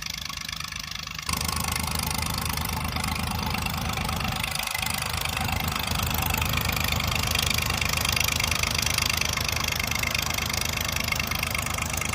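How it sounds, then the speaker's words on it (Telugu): A dewatering motor pump at a construction site in Amaravati hums steadily with a loud, constant mechanical drone and rushing water noise, running without a break for the whole stretch. "ఈ మోటార్ ద్వారా బయటకు అయితే వాటర్ వచ్చేస్తుంది"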